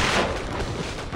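A grenade goes off in Killing Floor 2, a short, loud, dense blast of broadband noise that fills the moment and fades into a rumbling tail.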